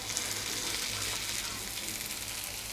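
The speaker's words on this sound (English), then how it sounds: "again frying for 2 to 3 minutes." Lady fish frying in coconut oil in a pan, a steady, fairly quiet sizzle with broadband hiss running evenly throughout and a low hum beneath.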